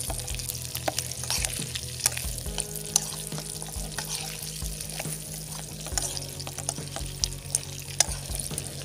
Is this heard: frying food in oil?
yes